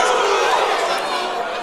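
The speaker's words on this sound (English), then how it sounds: "Crowd screaming for 2 points for Harrison Murdoch." Wrestling crowd at a live combat challenge event screaming and cheering loudly and steadily, a dense roar of many voices with no pauses.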